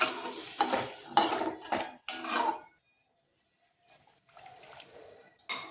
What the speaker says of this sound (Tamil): தண்ணி ஊற்றிக்குவோம்